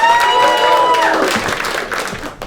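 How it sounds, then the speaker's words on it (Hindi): A stand-up comedy audience applauds comedian Azhar Qureshi, with dense clapping and a few whistles loud at first, then thinning and fading over a couple of seconds. "Start clapping for very funny Azhar Qureshi."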